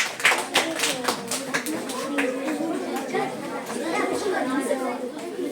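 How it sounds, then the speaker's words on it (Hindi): Children in a classroom clap for a classmate, a scattered, uneven burst of handclaps mixed with chatter and voices throughout. "जोरदार तालियां बच्चे के लिए"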